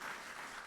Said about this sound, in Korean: 계시리라 믿고 박수